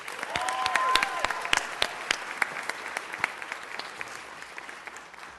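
A council meeting audience applauds a wrestling champion, with a dense stretch of clapping that swells early and then thins to scattered individual claps while fading out.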